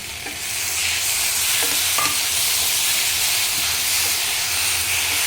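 Loud, steady sizzling and hissing of chicken masala sautéing in a hot pan, with occasional scrapes of stirring, continuous throughout.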